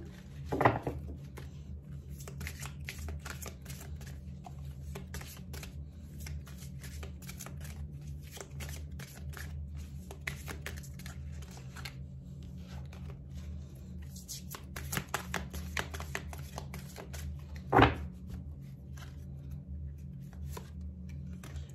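Oracle cards riffle and shuffle steadily in the hands for about twenty seconds, a soft continuous papery rustle with a couple of sharper snaps near the start and near the end.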